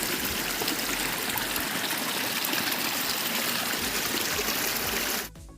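Water rushes steadily over wet, slippery stones in a Himachal mountain stream, a dense close babble that holds constant before cutting off abruptly at the end.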